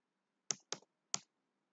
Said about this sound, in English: Now let us type